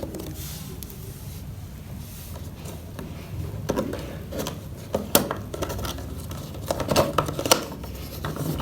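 Scissors snip and crunch through packaging close up, irregular cuts and crinkles growing busier toward the end, with no speech.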